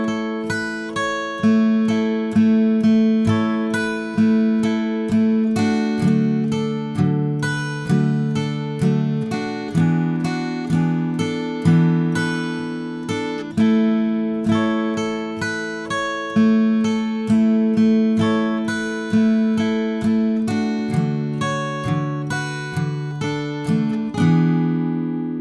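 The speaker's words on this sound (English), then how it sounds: "so altogether it will sound like this" An acoustic guitar plays the fingerpicked intro riff of a song, bright plucked notes ringing in a steady rhythm with the phrase repeating, close and clear with no talking.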